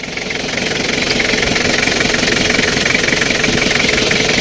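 Toyota Mighty-X pickup diesel engine idling steadily, a loud, even clatter with rapid knocking pulses that hold constant for the whole stretch, with no voices over it.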